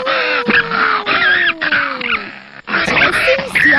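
A cartoon jackal howls along with a pack of other jackals, several wavering, yipping canine howls layered together, loud and close, with a short pause before a higher chorus rises again.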